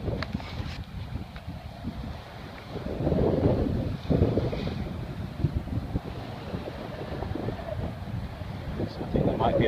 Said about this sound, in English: the wind's dropped again